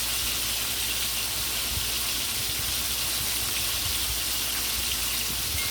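Thick fish slices for brown stew fish frying in a pan, a steady loud sizzling hiss with crackle that runs unbroken throughout.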